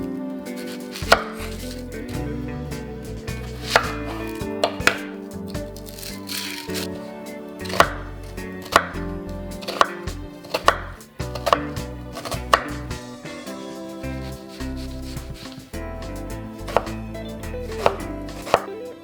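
A knife chopping an onion on a board for German red cabbage, in a steady run of sharp, close taps with brief pauses and some rattling, and no talking.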